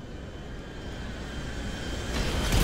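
Stunt planes in a video game fly by with a steady droning engine hum that swells louder toward the end as one approaches, no talking.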